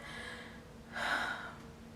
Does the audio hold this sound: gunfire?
no